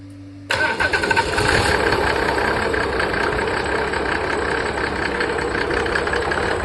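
A Mercedes OM603 diesel engine driving an irrigation motor pump starts abruptly after a quiet moment and settles into a loud, steady idle with a rough clattering texture.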